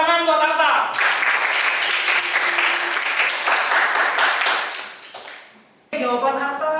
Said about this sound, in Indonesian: Tepuk tangan buat Arta.